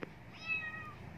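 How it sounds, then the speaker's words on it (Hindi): Small kitten giving a single thin, rising-and-falling meow, close and clear after a faint knock at the start, in a quiet room. "ये छोटा सा बिल्ली का बच्चा है. आ जाओ म्याऊं म्याऊं. बहुत देर से चिल्ला रही है."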